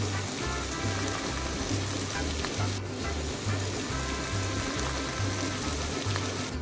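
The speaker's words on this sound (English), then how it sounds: "Now let's add the chopped onions, garlic, the green chillies and the curry leaves. One by one and stir it well." Chopped onions, garlic, green chillies and curry leaves frying in oil for a Sri Lankan egg gravy, a steady crackling sizzle with a rhythmic low pulsing hum and occasional stirring scrapes.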